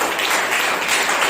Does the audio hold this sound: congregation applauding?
yes